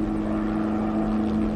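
A Kamov Ka-25 anti-submarine helicopter flies over open water, its rotor and engine giving a steady, droning hum with a strong low tone, constant and fairly close, with no speech.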